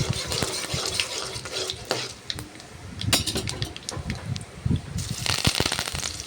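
Mustard seeds, cumin and lentils fry in oil in a kadai for restaurant-style poori masala, with sharp popping crackles and a busy sizzle under the scrape and clatter of stirring, close and lively throughout.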